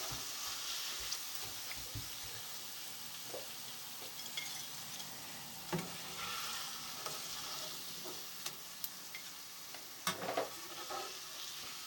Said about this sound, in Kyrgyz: Мынтип картошканы кызартып кууруп алдык.